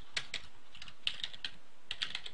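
Java code being typed on a computer keyboard, a slow, deliberate run of distinct key clicks with short pauses between clusters, close and clear with no talking.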